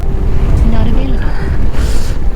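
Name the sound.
strong wind blowing into the microphone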